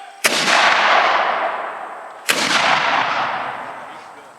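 Two loud, booming cannon shots from a War of 1812 historical reenactment ring out about two seconds apart, each followed by a long rolling echo that fades slowly, with no talking.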